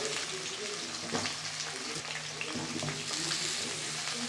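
Potato and papaya pieces fry in hot oil for a goat meat curry, giving a steady, dense sizzle with crackling pops and occasional stirring scrapes, fairly close and continuous.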